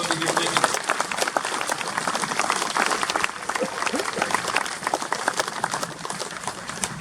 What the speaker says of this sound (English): let's just say thank you and a round of applause for everybody here